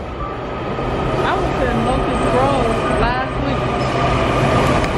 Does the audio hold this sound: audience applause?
no